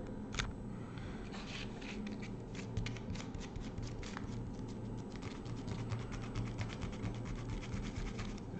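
Sandpaper of 150 grit rubs steadily against a small N scale Micro Trains flat car model, giving a continuous close scratchy rasp with faint irregular strokes and no talking.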